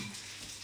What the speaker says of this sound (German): das legen wir jetzt zusammen in die Pfanne